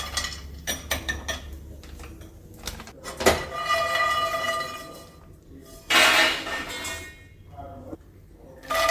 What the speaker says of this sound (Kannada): ಪ್ಯಾನ್ ತೊಗೊಂಡಿದ್ದೀನಿ, ಎಲ್ಲನೂ ತೆಗೆದು ಇಟ್ಕೊಳ್ತೀನಿ ಈಗ ಸಾಮಾನು